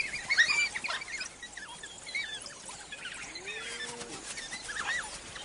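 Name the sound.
African wild dog hunting vocalizations resembling bird chirps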